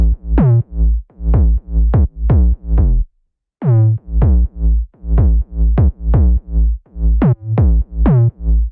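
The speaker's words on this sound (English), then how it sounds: "Let's go with the signature Proppa 808." Signature Proppa 808 bass from a chill remix, a deep booming sub bass playing a bouncy melodic pattern of short gliding notes, with one brief gap near the start.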